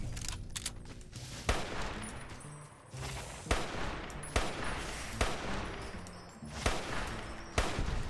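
Gunfire in Fallout New Vegas: a series of sharp, loud shots spaced about a second apart, each with a booming tail, amid background game ambience.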